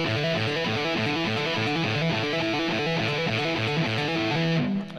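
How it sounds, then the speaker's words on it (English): Unmuted electric guitar notes ring out in a steady, sustained rock riff with a slightly overdriven tone, close and loud, with no talking, fading just before the end. "No palm muting would sound like this"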